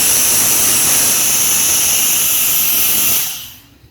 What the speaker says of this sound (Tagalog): So bubugaan na natin ang ating blower.